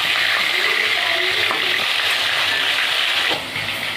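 Rohu fish fries in oil in a wok as a piece is turned over, with a continuous close sizzle, a few soft scraping knocks and a slight drop in the hiss near the end.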